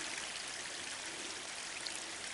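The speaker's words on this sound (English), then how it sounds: "You got some water flowing." A small stream of water running downhill makes a steady, soft, continuous trickle and rush, close by and fairly quiet, with no voices.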